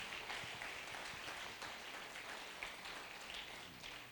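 Church congregation applauding God during a Spanish-language sermon, a dense, even wash of clapping that stays steady, heard faintly and at a distance.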